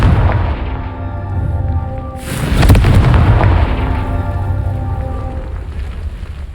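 A Confringo spell blast in Hogwarts Legacy: a single loud booming explosion bursts out midway over a dense rumbling background, then a long roaring decay rolls on to the end.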